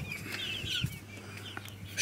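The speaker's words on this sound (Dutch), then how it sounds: "En we hebben familie Kip." Chickens cluck softly at close range on a tiled backyard patio, with a brief rustle or two and no talking.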